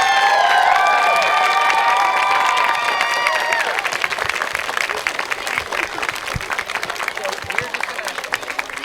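A crowd claps and cheers for Common Vision at an orchard opening, with children's shouts mixed in early on; the applause is loud and dense at first, then thins into scattered claps toward the end.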